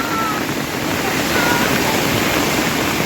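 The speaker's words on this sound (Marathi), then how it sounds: "पावसाचा जोर अजून वाढला आहे" Heavy monsoon rain pours steadily through the Aadrai jungle along a trekking route, with swollen streams and a waterfall adding to the constant dense rushing hiss; a loud, unbroken wash of water with no pauses.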